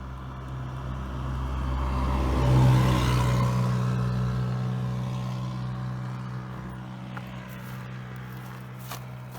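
A Peugeot 103 moped engine revs through an overheating exhaust, its drone swelling to a peak and then settling into a steady idle hum at close range, with no talk.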